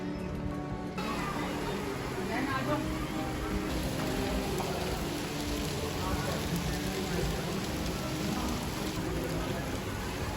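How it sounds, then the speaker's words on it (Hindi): Heavy rain pouring down hard and steadily outside an open window, a dense close hiss of drops on surfaces throughout, with faint voices mixed in. "बारिश फिर से शुरू हो गई और पानी यहाँ डायरेक्टली इधर हेड हो रहा है।"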